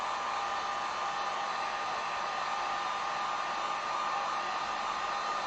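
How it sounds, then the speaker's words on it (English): A heat gun blows steadily on wet orange acrylic paint on a painted sign, a continuous, close, even hiss of hot air with no pauses or speech. "I'm gonna hit this with just a little bit of the heat gun"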